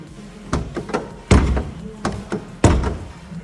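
A Nissan R33 Skyline car door with misaligned glass and a missing lock is shut several times, giving a few solid, close thuds with lighter knocks between them.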